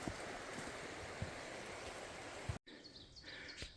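Loyalsock Creek flowing beside a wooded trail, a soft steady rush of water with faint bird chirps, cut by a brief break near the end.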